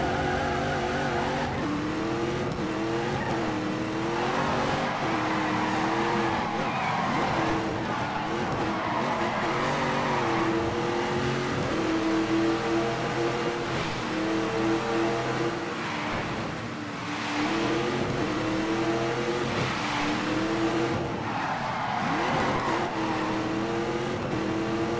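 Racing car engines at full throttle, a steady loud roar with wavering pitch and tire squeal, continuous throughout with no voices.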